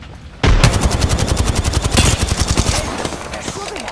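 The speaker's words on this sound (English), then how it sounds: "They're shooting at me!" Rapid automatic gunfire in a video game rattles in a long, loud, close burst of evenly spaced shots, tapering off into softer echoing noise at the end.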